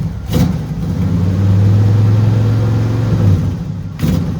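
Car engine running after a cold start, a loud steady mid-pitched drone with a sustained low hum, with short bursts of noise near the start and end.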